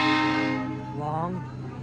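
Horn of an EMD F7 diesel locomotive on a wet day during a birthday train ride, a loud sustained harmonic blast that fades and bends toward its end, with voices faintly underneath.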